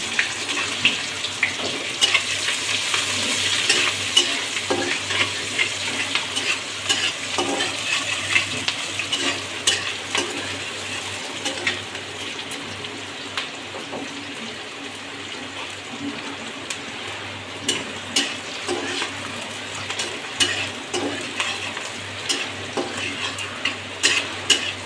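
Sliced onions frying and being stirred in leftover fish-frying oil, heard as a steady close sizzle with frequent scraping and clinking stirs throughout, no talking.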